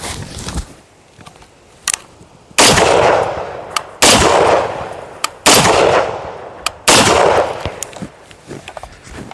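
FAL rifle shots in a combat shooting drill: four loud, sharp reports spaced roughly a second or more apart, each ringing out with a long echoing decay.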